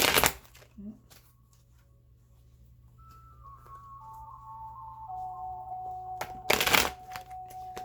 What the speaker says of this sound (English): these don't want to shuffle